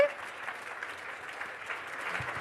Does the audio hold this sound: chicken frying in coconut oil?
no